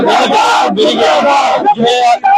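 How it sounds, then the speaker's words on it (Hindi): A protest crowd in Kotdwar chants slogans in loud, rhythmic unison, voices rising and falling in short bursts close by. "अंकिता को न्याय दो, रेनो बेस्ट मुर्दाबाद, आक्रोश यहाँ पर नजर आ रहा है।"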